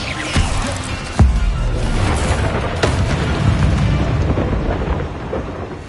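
Incendio fire spell cast in Hogwarts Legacy: a loud, sharp burst, then a second heavier whooshing blast and a later crack, all over a dense, roaring, crackling wash of flame-like noise.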